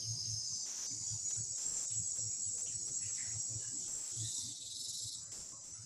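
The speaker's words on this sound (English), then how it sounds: "We've got cicadas, like little crickets making noise in the background." Cicadas and crickets chirp outdoors in a steady, high-pitched drone, with a soft rhythmic pulsing of insect calls repeating beneath it, faint and continuous with no voices.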